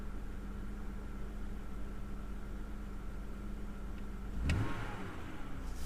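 A BMW N52 inline-six idling steadily in an E90 or E60 with a rough-idle and surging fault, then a short throttle blip near the end that lifts it into a brief rev before it settles back.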